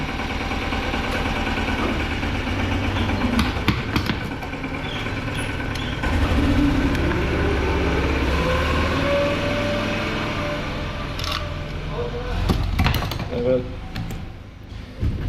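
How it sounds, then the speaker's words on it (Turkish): Small two-stroke engine of a Datsu motorized brush cutter sputtering and struggling to run with a clogged exhaust and burnt piston, an uneven rough drone with brief revs near the end. "İşte sadece mini bir delikten motor çalışmaya çalışıyor."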